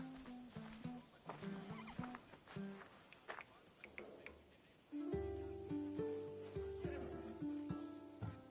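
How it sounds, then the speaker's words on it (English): A horse in the Assassin's Creed Odyssey game, offered as sturdy mountain stock, neighs faintly amid a soft chirring of crickets and game ambience, with no talk over it. "That horse can cling to mountain passes like a goat."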